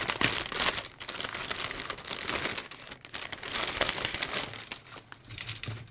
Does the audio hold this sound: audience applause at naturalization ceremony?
no